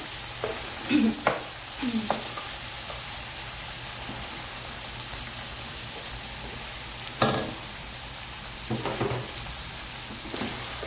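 Chicken seasoned with salt and black pepper fries for sotanghon guisado, giving a continuous soft sizzle with a few scattered utensil clinks and scrapes.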